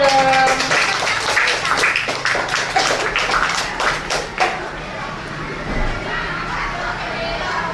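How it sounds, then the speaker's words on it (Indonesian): Children in a classroom clap for a classmate in a brief scattered burst of claps under chatter and a teacher's voice, then the clapping dies away into quiet room sound with occasional voices. "Kasih tepuk tangan dong."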